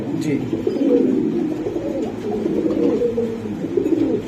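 Danish pigeons, a pair kept with eggs and chicks at a loft, coo in a low continuous rumbling drone, close and fairly loud, with faint voices in the background.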